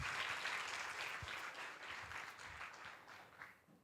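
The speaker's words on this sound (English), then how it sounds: "Ladies and gentlemen, a big round of applause." An audience at an IT industry talk event gives a brief, fairly faint burst of applause, dense clapping that gradually thins out.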